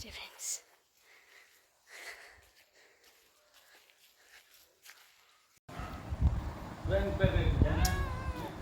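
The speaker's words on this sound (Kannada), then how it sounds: "ಈ ಬೆಕ್ಕು ಭಾರಿ ಒಳ್ಳೆ ಬೆಕ್ಕು" A domestic cat meows a few times in a home setting, near and fairly clear at the end, after a quieter stretch of soft shuffling footsteps and faint voices.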